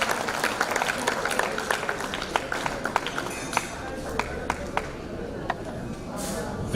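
An audience at an award ceremony claps as a farewell, with scattered, fairly sparse claps rising above a murmuring hall, moderate in loudness and somewhat distant, and a sharp knock near the end.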